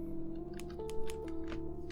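Goosebumps video game name-entry screen producing a series of crisp typewriter key clacks, about six irregular taps layered over sustained synth background tones, with no one speaking.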